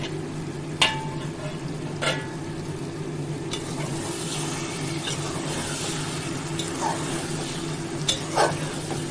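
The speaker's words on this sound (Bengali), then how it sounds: "আর একবার নেড়ে দেবো" Bottle gourd curry with a splash of raw mustard oil is stirred in a pan, giving a steady soft sizzle with a few sharp spatula scrapes and knocks against the metal, all close and continuous.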